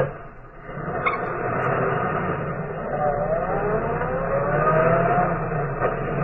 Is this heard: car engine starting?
yes